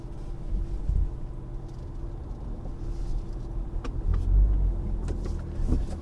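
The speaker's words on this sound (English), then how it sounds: "I live on a main road, so there's just cars coming everywhere right now" Cars passing on a main road, a steady low traffic rumble with a couple of vehicles swelling closer and louder partway through, heard alone without talk.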